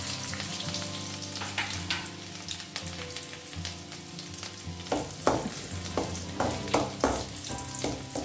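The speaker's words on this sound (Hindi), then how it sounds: "लहसुन को हमें ब्राउन नहीं करना है, हल्का से इसे सौटे करें।" Garlic, chili and cumin sautéing in a hot pan, a continuous crackling sizzle that grows busier toward the end with repeated scraping strokes of a spoon, no speech.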